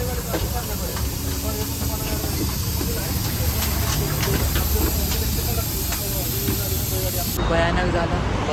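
Steady loud hiss of smoke and steam pouring from an overheated Maharashtra ST bus that has caught fire on the Khandala ghat, a broad continuous rush with voices faintly underneath.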